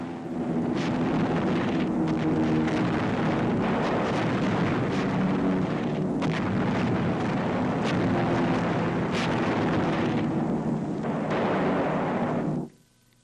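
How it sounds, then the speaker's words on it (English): Incendiary bombs burning out Nazi military installations in a WWII newsreel: a dense, loud, continuous roar with rumbling bursts that cuts off abruptly at the end. "Incendiaries burn out Nazi installations which might disrupt our bridgehead operations."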